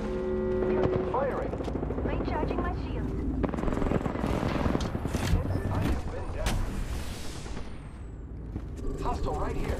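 Automatic gunfire in the video game Apex Legends, dense rapid shots mixed with helicopter-like dropship rumble and game effects, loud and continuous over about ten seconds, with a player's voice chatter alongside.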